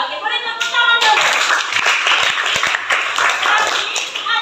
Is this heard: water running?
no